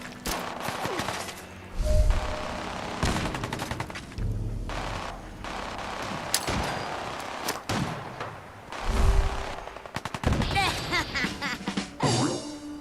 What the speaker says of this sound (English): Let me actually get some grenades tossed, shall we? I picked up some smart frag grenades.